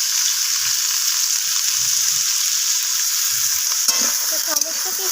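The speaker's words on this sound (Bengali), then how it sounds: "তো সমস্ত কিছু সেইভাবে নাড়াচাড়া করে আমি একটু ভাজা করে নিচ্ছি।" Cauliflower stalks fry with potato and radish in a pan, giving a steady, close, loud sizzle that goes on without a break. Near the end come a few clinks and scrapes as the pieces are stirred.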